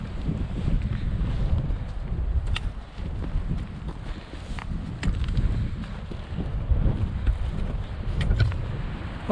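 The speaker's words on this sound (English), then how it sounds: "Pretty windy up here too" Strong wind buffets and roars across the microphone in continuous gusts near a mountaintop, with no talking.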